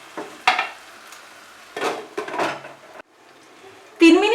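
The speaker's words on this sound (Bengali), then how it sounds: "পটলের সাথে মশলাটা কিন্তু ভালো করে মিশিয়ে নেব।" Spoon stirring pointed gourd (potol) with spice masala in a pan for a Bengali potol korma, a few short scraping and clattering strokes with gaps between, quiet sizzling underneath and a brief voice at the end.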